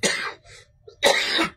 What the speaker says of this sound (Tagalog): Ito na ba ubo ko?